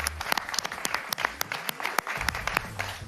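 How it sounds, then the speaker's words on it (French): A studio audience on a French talk-radio show applauds, with sharp, uneven claps standing out over a steady patter of hands that carries on for about three seconds, close and moderately loud. "ça mérite des applaudissements"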